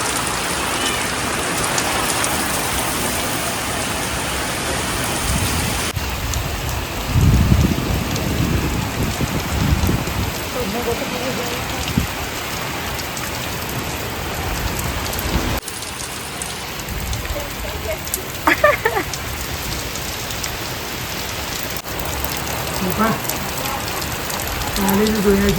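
Heavy monsoon-style downpour of rain pouring steadily near a house, a dense continuous hiss throughout with a few louder splashes and faint distant rumbles; a voice is briefly heard under the rain.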